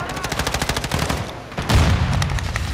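Rapid bursts of gunfire from a disliked shotgun in a video game ring out loud and close, with a heavy, sustained volley building in the second half.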